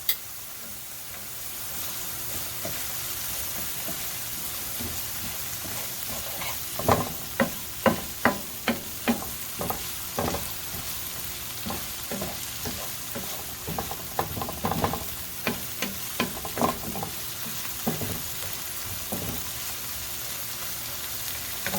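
Garlic and beef brown in a hot pan for beef stroganoff, with a steady sizzle underneath and bursts of louder crackling and scraping stirs clustered in the middle stretch, close up and without speech.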